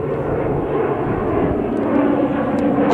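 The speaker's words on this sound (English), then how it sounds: "nice plane in the background of that ATR coming in" An ATR turboprop airliner arrives at Manchester Airport with a loud, steady propeller-engine roar that fills the whole stretch, heard outdoors without speech.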